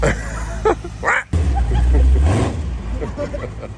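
A Camaro accelerates away, with a deep engine rumble swelling up loud for about a second and then easing off, while people talk over it before and after.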